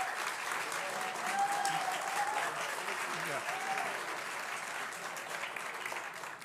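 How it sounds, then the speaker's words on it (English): Applause fills a state legislative committee hearing room, a faint, sustained patter of many hands with low voices mixed underneath. "Thank you for that applause"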